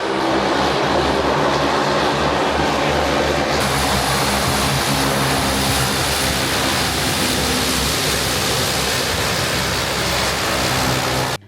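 A military airplane arrives at Süleyman Demirel Airport in Isparta, its propeller engine drone loud and steady throughout with dense broadband roar and no speech.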